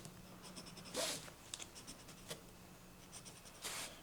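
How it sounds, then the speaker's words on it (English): A marker drawing short tick marks on vinyl and mesh for a cushion, faint scratchy strokes in brief bursts with a few louder rubs, quiet and close, no talking. "I'm going to draw this out."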